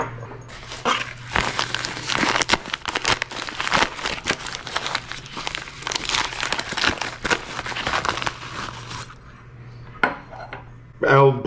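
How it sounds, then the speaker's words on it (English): Hands rummage through a bunch of metal bolts, screws and spacers, giving a dense run of clinks, rattles and scraping clatter that drops away near the end. "Okay, a bunch of bolts and screws,"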